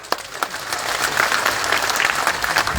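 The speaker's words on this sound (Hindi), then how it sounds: "तालियां भी जोरदार बजे" Steady applause from an audience at a public political rally held before nominations, with dense clapping that carries on evenly for a few seconds at moderate loudness, with no speech over it.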